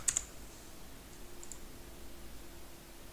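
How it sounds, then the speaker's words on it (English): A computer mouse clicks twice in quick succession while Geometry Dash is played, crisp and close, then a faint pair of clicks follows over a low, quiet background hiss. "now whenever I need to click my mouse for literally basically anything, I click like this."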